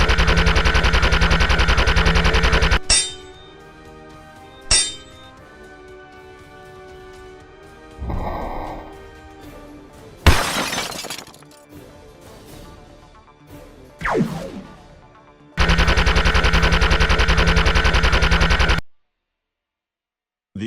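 Gunfire in Bionicle: Cataclysm, long loud sustained bursts of rapid automatic fire at the start and near the end, with sharper single blasts, whooshes and explosive hits between them.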